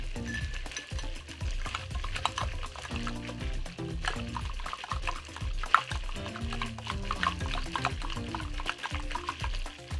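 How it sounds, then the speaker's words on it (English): A spoon stirring sage through a chicken and sausage fricassee in a pot, soft scraping and wet stirring over a faint simmer, steady and close, with no voices. "Going to give that another stir."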